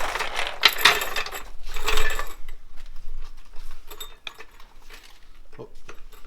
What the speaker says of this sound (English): So I'm gonna do is jack it up on this hitch part